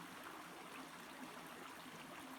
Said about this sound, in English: Listening to the sound of the water